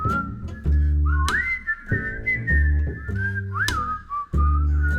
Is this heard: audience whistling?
yes